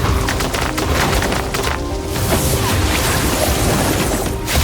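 A rock is wrenched up and smashed in a video game, a crunching, splintering crash with rumbling debris that fills a few seconds at steady loudness before a brief second impact near the end.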